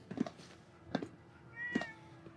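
A cat inside an explored building in a Fallout game gives three close, distinct meows spaced under a second apart, the last one longer and more drawn out.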